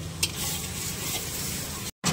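Masala sautéing in a pan, a steady close sizzle with a brief stirring scrape near the start and a short cut near the end, no voices.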